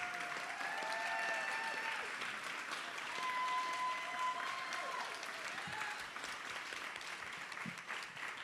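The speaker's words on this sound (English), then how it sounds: "Let's give them a hand, a rouse of applause." An audience claps for a panel at a talk on fighting white supremacy and state violence, with sustained, even applause throughout and a voice rising briefly over it.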